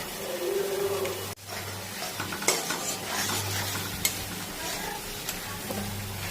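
Dried fish (shutki) fries with spices and turmeric in a pan for a Tripura-style curry. Close sizzling is broken by repeated stirring and scraping, with a few sharp utensil knocks.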